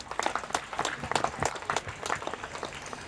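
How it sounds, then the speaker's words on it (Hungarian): Children applaud at an outdoor sports day memorial race in Zebegény, with steady, moderately distant clapping carrying on for the whole stretch without a break. "kérek szépen egy nagy tapsot a Zöld Panoráma Egyesületnek"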